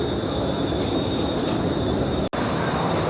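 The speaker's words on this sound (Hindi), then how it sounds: "पहली सिंगापुर की ट्रेन की यात्रा होने जा रही है और ये है मेट्रो।" A Singapore metro train runs with a loud, steady rumble and roar heard from inside the carriage, with a faint high whine over it and a brief dropout near the end.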